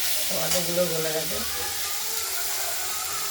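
Turmeric powder hits a frying spice mixture with tomatoes in a pan, a steady sizzle and hiss throughout, with a voice speaking briefly over it near the start.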